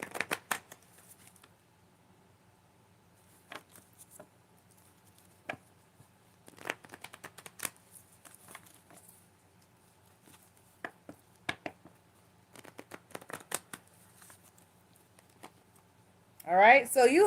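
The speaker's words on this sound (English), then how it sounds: "Let's pull your oracle card" Oracle cards being shuffled by hand in bursts of crisp riffling and flicking, with a louder stretch of shuffling at the very end; the clip is otherwise quiet between the bursts.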